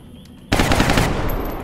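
Gunfire in the video game XCOM Long War, a sudden loud burst of rapid automatic shots that cuts in abruptly and rattles on for about a second, close and dense.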